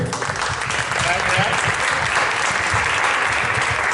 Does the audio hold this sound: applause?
yes